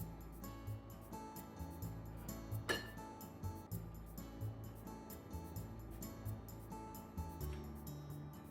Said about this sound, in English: Let's turn the heat off and serve in the bowl.